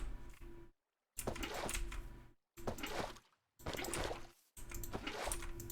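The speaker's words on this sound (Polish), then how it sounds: "Zrobimy nieskończone źródełko wody." Minecraft water flowing from an infinite water source in the game: bursts of rushing, splashing water sound, each a second or so long, separated by brief silent gaps.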